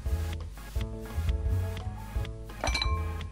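Cartoon dishes clinking as a restaurant table is cleared in a Dr. Panda children's video game, a run of bright chiming clinks in steady succession over a soft musical backdrop, with no talk.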